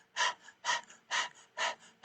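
Rapid, forceful panting through an open mouth in a breath of fire exercise, five sharp, evenly spaced breathy bursts, close and clear with no talking.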